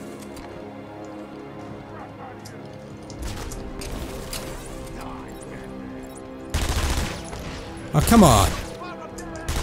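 Gunfire bursts from armed enemies in the video game Batman: Arkham Asylum crackle amid game effects, with two louder rattling volleys near the end, while a player speaks briefly over it.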